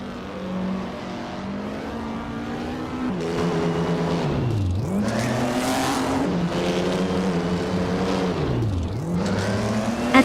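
Race cars competing in a racing video game, engines droning steadily and then rising and falling in pitch as cars swoop past close by, with repeated revving and shifting throughout.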